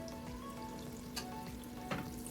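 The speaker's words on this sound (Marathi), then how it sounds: "तेल गरम झालं की त्यामध्ये अर्धा चमचा मोहरी अर्धा चमचा जिरे घालून घ्यायचे पाच सहा कडीपत्त्याची पाने घालून घ्यायची आहेत" Mustard seeds, cumin and curry leaves frying in hot oil give a steady low sizzle with faint pops and crackles throughout, close and continuous, with no speech.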